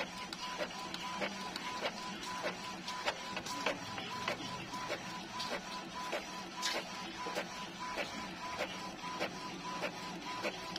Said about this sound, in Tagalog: Ayan, nakapag-print na po tayo.